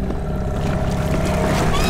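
A small dinghy paddled through water, with continuous close splashing and wash noise over a low rumble, steady and fairly loud for a short stretch, with no talking.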